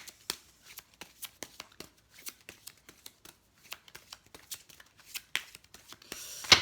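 Oracle cards drawn from a spiritual ascended-master deck are shuffled up close, giving a run of soft, quick papery flicks and riffles in an uneven rhythm, with a brief denser burst of shuffling at the end and no talk.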